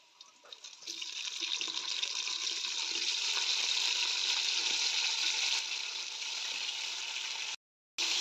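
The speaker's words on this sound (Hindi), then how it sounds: "अब इसमें डालूंगी चिकन।" Chicken hitting a pan of already fried onions sets off a loud, steady sizzle that holds at full level for about seven seconds, cuts out briefly, then returns, with no talking.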